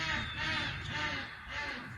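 Pet birds call out in raucous, crow-like caws, several overlapping rough cries in quick succession, fairly faint and a little distant, beside a backyard Vevor charcoal grill smoker.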